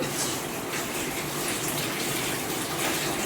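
Tap water runs steadily into a kitchen sink while fish and meat are washed, a continuous close splashing gush with no talking.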